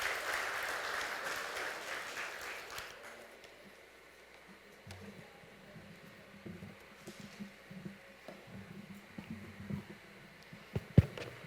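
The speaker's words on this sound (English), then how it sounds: "A huge round of applause for Omer Aqeel." An audience at a youth leadership program event claps loudly for a few seconds, then the applause fades into scattered claps and low room rustle.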